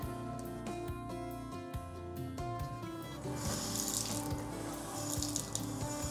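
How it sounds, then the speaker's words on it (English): Water flows steadily from a household tap after a smart shut-off valve reopens, a continuous broadband rush that builds and holds at moderate level over a background of music. "the water's coming back on through our home assistant and my voice"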